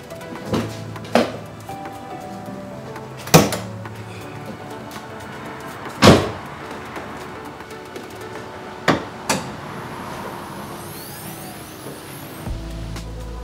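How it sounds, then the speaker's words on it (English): On a Volvo C30, the hood release and lid give several sharp metallic clunks and thumps spaced a few seconds apart, ending in one last muffled thud, with a quiet hum underneath. "let's pop the hood"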